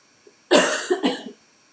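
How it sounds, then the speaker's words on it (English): A woman in a home kitchen lets out a short burst of coughing, two or three harsh, close coughs in quick succession lasting about a second, then quiet. "before I have another coughing fit"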